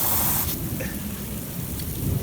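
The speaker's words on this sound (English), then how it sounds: "that lightning just struck right outside my house" Heavy rain pours steadily outside a house during a thunderstorm, with a close lightning strike nearby; a loud crackling burst opens before the downpour continues as a dense, even hiss.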